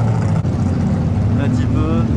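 An AC Cobra sports car drives out on the Montlhéry race track banking during the Tour Auto 2020, its loud engine droning steadily nearby, with rising engine tones toward the end and talk over it.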